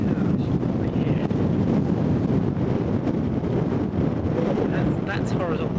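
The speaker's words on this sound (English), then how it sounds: "it's fairly windy right here" Strong wind blowing across a hilltop, a loud, constant roar and buffeting that fills the whole stretch with little variation.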